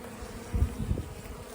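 Honeybees in a hive box late in the season hum in a low, close buzz, with two brief louder swells over a soft steady drone.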